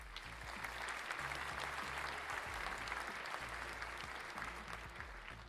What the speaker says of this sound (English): Give a round of applause for the diamond.